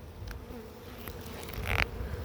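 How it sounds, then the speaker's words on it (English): Honey bees buzz steadily inside a hive during a late-winter inspection, a dense continuous hum close to the listener with a brief louder swell as bees pass nearby. "So many bees. happy bees."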